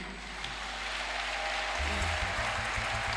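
A church congregation applauds and cheers for Jesus during a praise and thanksgiving service. The clapping is a steady, dense wash of sound that fills the space throughout, with a low hum underneath.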